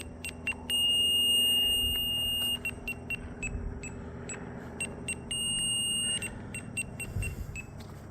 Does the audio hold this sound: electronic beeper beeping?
yes